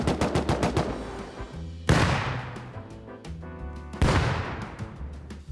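Video game gunfire: rapid bursts of automatic shots up front, then two loud single blasts with long decaying tails, each followed by scattered mechanical clicks and rattles.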